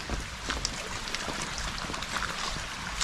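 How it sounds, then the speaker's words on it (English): Rainwater rushes down a gully in Cheswick, St Thomas, Jamaica, a broad continuous wash of flowing water with faint trickles and drips, steady and close with no talk. "water coming down the gully"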